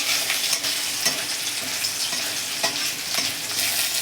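Green chillies frying with ginger and garlic in hot oil, stirred steadily: a continuous loud sizzle with scraping stir strokes recurring about every half second to second, no voices.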